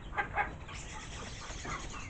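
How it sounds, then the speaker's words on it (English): A large old rooster gives a couple of close, short clucks at the start, then a quieter cluck near the end against a steady low outdoor background of farm birds. "Oh, there's the big old rooster there."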